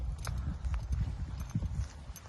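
A horse's hooves clip-clop in a steady walking rhythm, fairly close and continuous, with faint background noise and no voices.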